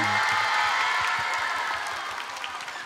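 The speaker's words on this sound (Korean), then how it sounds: "여러분 큰 박수 부탁드립니다" A studio audience at a televised lecture claps warmly to welcome a baker, steady applause that slowly tapers, with a brief low voice at the very start.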